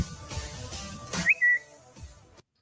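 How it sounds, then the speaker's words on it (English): Whistling from a played-back clip: a short rising whistle followed by a sustained steady tone, clear and isolated above faint background murmur. "By the way, that's not me whistling."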